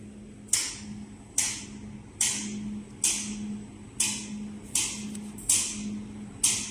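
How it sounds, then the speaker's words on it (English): An automatic KN95 mask-making machine running, with servo and step motors handling mask molding, ear-loop welding and edge sealing: regular mechanical clacks repeat roughly every 0.6 seconds over a steady low hum, close and moderately loud. "You can see this machine is automatic, the mask molding and the ear-loop welding and the sealing edge."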